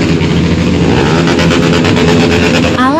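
A motorcycle engine revving hard on a Sunday morning ride near Malalak, a loud, close, continuous droning roar with pulsing throttle blips and a brief shift in pitch near the end.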